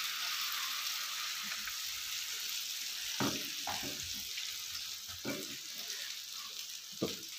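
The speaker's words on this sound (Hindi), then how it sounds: "तो अंडे को कर लेते हैं जी अच्छे से हम फ्राई" An egg frying in a pan for a homemade village-style burger gives a steady, even sizzle throughout, with a few soft clinks and scrapes from a utensil stirring now and then.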